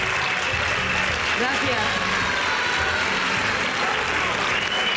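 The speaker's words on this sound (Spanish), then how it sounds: "se agradece un aplauso, ¿no, Isabel?" TV studio audience applause, a steady loud wash of clapping throughout while a voice speaks briefly over it.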